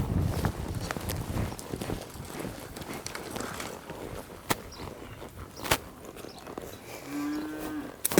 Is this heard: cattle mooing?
yes